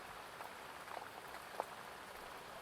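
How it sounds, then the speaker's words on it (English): Steady rain falls as a continuous soft hiss with scattered faint drop taps, distant and even, with no voices. "enjoying the sound of the rain"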